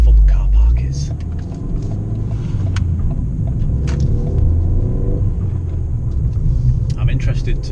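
A car drives slowly into a car park off Lenton Lane, a steady low engine rumble and road noise heard from inside the vehicle, with a brief louder surge at the start.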